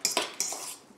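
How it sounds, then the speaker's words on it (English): Metal utensil scraping and clinking against a bowl while egg is mixed into a salmon cake mixture with scallions, mustard and mayo; several quick close scrapes and taps, alone with no talk. "I'm gonna mix all this around, make sure you mix the egg in there well"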